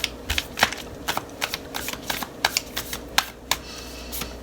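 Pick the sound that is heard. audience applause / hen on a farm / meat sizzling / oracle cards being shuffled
oracle cards being shuffled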